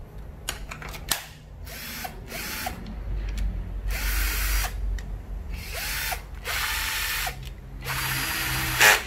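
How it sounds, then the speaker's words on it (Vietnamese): A cordless Ryobi drill is triggered in a series of short, close bursts. Its motor whine rises and falls as the speed changes, with brief clicks and quiet gaps between runs. "Đây số 16, một cây khoan Ryobi."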